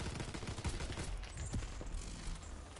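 Covering gunfire in the video game WW2 Zombies, a sustained volley of dense rapid shots at moderate level that continues without a break through the clip.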